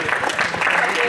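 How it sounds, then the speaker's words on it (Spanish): Classroom students applaud in a short, lively burst of clapping from a small group nearby, loud and uneven, with some voices mixed in. "¡Un aplauso a vosotros!"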